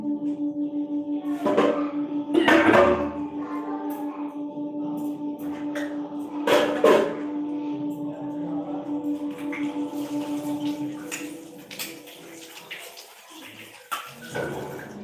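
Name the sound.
washing a spatula under running water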